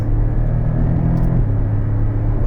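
Porsche 718 Cayman 2.0 four-cylinder engine droning loudly and steadily from inside the car, a continuous low rumble with a slight pitch step around a quick gear change, no talk.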